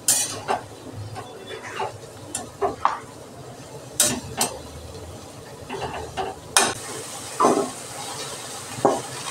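Dill going into a pan of sautéed chillies, with a soft sizzle under repeated clinks and scrapes of a utensil against the pan as it is stirred, close and intermittent.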